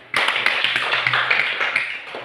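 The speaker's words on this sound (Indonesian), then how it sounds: "Nah, tepuk tangan untuk Ina dulu." A class of young primary-school pupils claps together for a classmate, a bright burst of quick, uneven hand claps that starts abruptly and fades slightly toward the end, close and lively.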